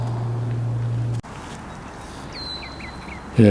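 Mallard mother duck and her tiny ducklings swimming on a park pond in Vancouver, with a few faint quacks and peeps over steady outdoor ambience and a low hum that cuts off partway.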